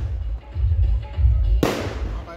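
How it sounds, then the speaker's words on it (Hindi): Firecrackers burst in a nighttime celebration in India, a sharp crack cutting through a steady low rumble of distant noise and crowd. "नेक्स्ट डे की खुशियों में पटाखे बज रहे हैं"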